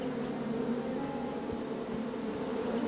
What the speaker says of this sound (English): Bees! I ruined the bees' day and that lovely meal.